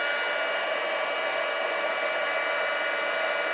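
A heat tool blows a loud, steady hiss over embossing powder on a stamped card, running continuously and close without pause or change in pitch.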